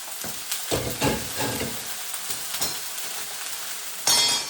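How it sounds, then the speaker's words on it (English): Beef hits a hot pan for a tomato soup and crackles into a dense, steady sizzle with soft knocks, flaring louder near the end. "I'm going to grab my beef here and then drop in the pan"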